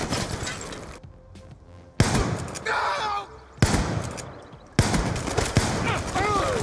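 Bursts of gunfire from a Call of Duty video game gun, sharp loud volleys at roughly two-second intervals with crackling, shattering tails, set among game ambience and a voice talking.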